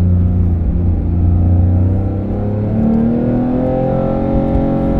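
A Porsche 991.2 GT3 engine pulls hard on a racetrack, a loud, continuous cabin drone with rising harmonic tones as throttle is fed in, steady and close with no talking.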